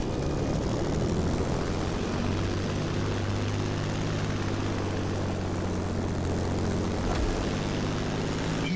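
Propeller airplane engine drones steadily throughout in The Crew Motorfest, a loud continuous low hum with no talking.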